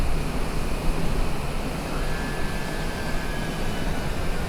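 A small airplane on approach in cloud hums with a steady engine and airflow roar as the landing gear comes down, and a faint tone rises and then holds partway through.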